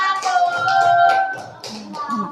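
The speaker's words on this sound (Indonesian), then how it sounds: "Tepuk tangan." A short burst of applause in a classroom or group-presentation setting, with hands clapping steadily and fairly close, mixed with tonal voices or cheering.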